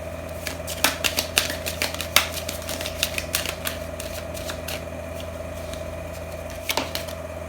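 Oracle cards from a Starseed deck being shuffled by hand: a steady run of crisp riffling snaps and soft slaps close up, repeating for several seconds with no talking.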